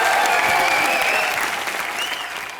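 A television comedy show's studio audience breaks into loud, dense applause to welcome a guest, a continuous roar of many hands that stays strong and slowly tapers off, with faint cheers in the mix.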